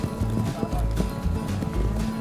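Heavy, irregular hoofbeats thud and clatter as a bronco bucks and lands at a rodeo at Frontier Town in the Adirondacks, loud and close, with a low rumbling crowd murmur underneath.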